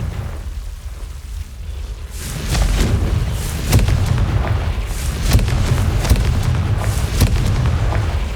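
Confringo fire spell explosions in Hogwarts Legacy, a series of deep booming blasts and thumps over a rumbling game soundscape, loud and repeated every second or so.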